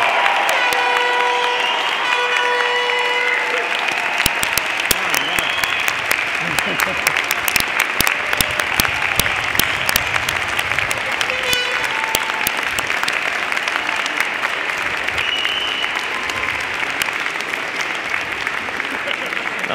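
Large audience at a university convocation applauding the graduating class, sustained dense clapping from a crowd throughout, with a few cheers mixed in.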